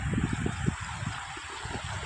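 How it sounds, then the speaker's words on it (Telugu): Flood water rushes down a small stream in a steady, churning roar with low gurgling, heard close and continuous without speech. "సో ఎంత భయంకరంగా నీళ్ళు పోతున్నాయి చూడండి."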